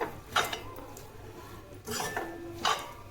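Egg kothu chappathi masala stirred in a pan, a metal spatula clinking and scraping against the pan in three short bursts over a quiet kitchen background.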